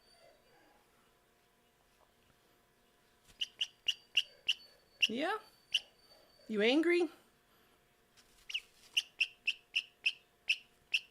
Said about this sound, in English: I know you want to scream at me because you're an angry, evil chicken